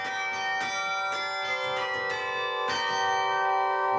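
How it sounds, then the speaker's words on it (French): Carillon bells of the Béthune belfry in Nord-Pas-de-Calais, 36 bells played by hand by a carillonneur: a ringing melody of struck bell notes in an irregular rhythm, each strike leaving a long, shimmering overlapping resonance. "ce ne sont pas les ritournelles automatiques qui actionnent les 36 cloches, mais un carillonneur en chair et en os"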